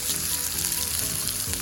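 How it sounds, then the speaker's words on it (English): Diced onions dropped into hot olive oil sizzle and crackle steadily with a dense, bright hiss, close and continuous, with faint stirring and no talking. "now that the olive oil is hot, we're gonna go ahead and add the diced onions"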